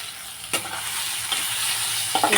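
Potatoes coated in turmeric and salt fry in a pan, browning for a cauliflower and koi fish curry; a steady close sizzle runs throughout, broken by three clattering stirs.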